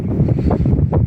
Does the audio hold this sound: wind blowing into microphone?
yes